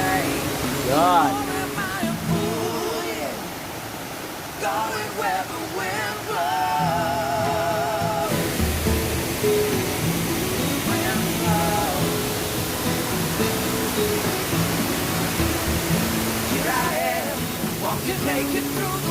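Kabab Falls in Sitio Longgabi, Brgy. Wallayan, pours as a constant broadband rush of falling water, loud and steady throughout, with a voice speaking over it early and music joining later.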